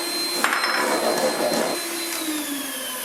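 An electric whisk beats meringue with sugar, giving a continuous close high-pitched whir with a few brief knocks against the bowl.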